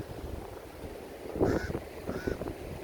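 Seabirds calling at a windy beach, two short squawking bursts standing out over steady wind rumble, fairly close and moderately loud, with no talking.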